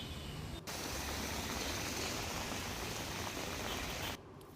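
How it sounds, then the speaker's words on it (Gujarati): Heavy monsoon downpour in Kim, Surat district, Gujarat, a dense, steady roar of rain that holds for about four seconds and then cuts off abruptly. "સુરત જિલ્લાના કીમમાં ધોધમાર વરસાદ છે"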